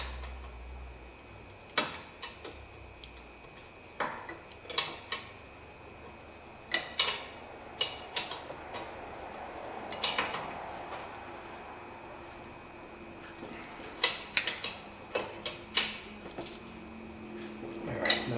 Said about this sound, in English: we're just going to tighten that up with a wrench as tight as we can